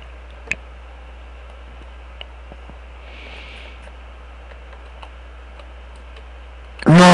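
Sparse, isolated clicks of computer keyboard keys pressed during a Sonic 3 play session, faint and irregular over a steady hum, ending in a sudden loud burst of game sound.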